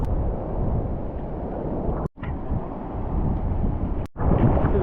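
Steady offshore wind blowing across an open beach, a broad low roar buffeting the microphone continuously with two brief dropouts, no voices.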